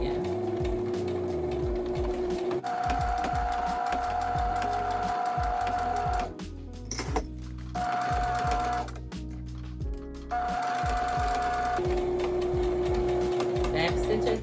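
A sewing machine stitching a Bible bag, running forward, pausing and reversing to lock the stitches: rapid close mechanical whirring in bursts with short gaps, and the pitch of its motor changing between passes.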